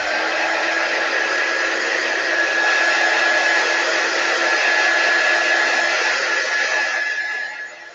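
A hair dryer blows on a damp Chalk Couture transfer, a loud, steady whooshing motor hum held close for several seconds before tapering off at the end.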